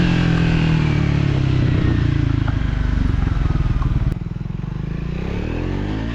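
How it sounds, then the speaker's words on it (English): A Triumph Scrambler 400X with a 398cc single-cylinder engine pulls hard under acceleration, a loud close throbbing exhaust rising, then easing into a lower steady drone after a gear change. "The moment you twist your right hand grip, the bike does pull hard and fast, thanks to the very tractable 398cc single cylinder block"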